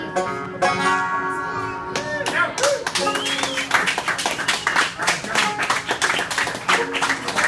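Audience applause after a live Irish folk performance, a dense steady patter of many hands clapping close by, with some tapping and a few voices mixed in throughout.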